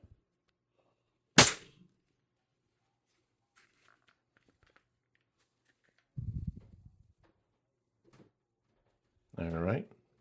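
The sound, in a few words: Hot Rod Beeman airgun shots fired on 1100 psi HPA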